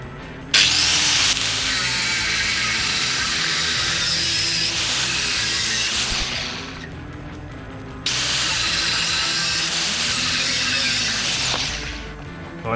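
An angle grinder works on an engine part during a big-bore stroker 277 build. Its loud, steady high whine runs in two long bursts, each spinning up and winding down, with no talking.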